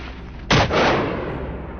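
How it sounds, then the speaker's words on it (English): A single sharp gunshot blast from a hunter shooting at wild boar outdoors, loud and close, followed by a rolling echo that slowly fades. "he pulls the trigger and gunshots ring out in rapid succession"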